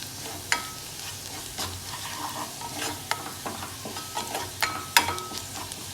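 A potato and garlic mixture with chilli flakes is stirred in a hot pan, giving a soft continuous sizzle punctuated by scraping stir strokes and occasional sharp clinks of the spatula against the pan.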